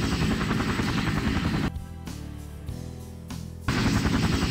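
A helicopter in the Minecraft game whirs with a loud, steady rotor chop, dropping to a quieter, rougher drone for a couple of seconds before the full thrum returns.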